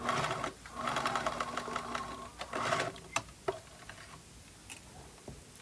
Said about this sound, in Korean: 여기 스커트의 밑단 가장자리는 이렇게 뒤집어서 먼저 여기만 박음질을 먼저 해줍니다.